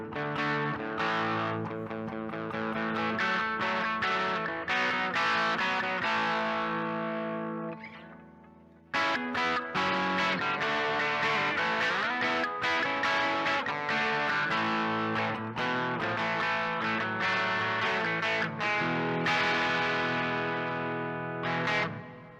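Electric guitar through a Timmy clone overdrive pedal and Hall of Fame reverb plays chords and melodic lines with light crunchy distortion and a lush reverb tail, pausing briefly midway before continuing.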